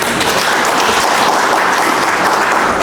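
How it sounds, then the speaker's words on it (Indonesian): A university gathering of lecturers and staff breaks into loud, sustained applause, a dense wash of many hands clapping evenly with no pauses. "Tepuk tanganlah sekali lagi."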